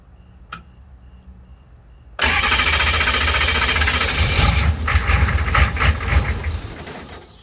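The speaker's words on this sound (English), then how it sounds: "Starter works good, that's a plus." An M1152 Humvee with a non-factory starter is cranked for a couple of seconds after a brief click, then its engine catches and runs loudly up close, with a rougher, uneven surge toward the end.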